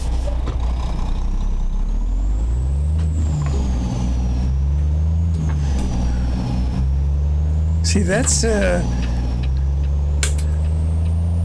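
A truck engine in a video game drones steadily, its pitch rising and falling as it revs through low gears, with a brief voice speaking over it.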